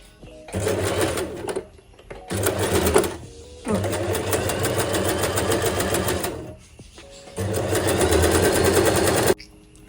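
A sewing machine stitches net fabric for a baby frock in four loud bursts of fast, rattling running, separated by brief pauses.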